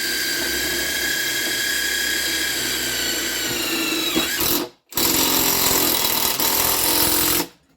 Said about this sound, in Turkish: 2 milimlik saca trapez vidamı torklu somun sıkmayla atacağım arkadaşlar size gücünü göstermek için